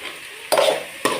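Two brief scraping strokes of a spoon stirring thick keerai kulambu, a greens curry, in a pan, about half a second apart, close up over a faint background hiss.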